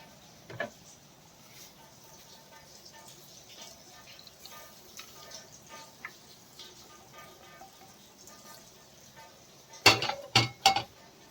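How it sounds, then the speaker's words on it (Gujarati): Roasted semolina for upma is scraped out of a kadai into a vessel: faint, quiet scraping and rustling for a while, then a quick burst of a few sharp metal clinks and knocks near the end. "રવો સરસ શેકાઈ ગયો છે હવે તેને આપણે એક વાસણમાં કાઢી લઈશું"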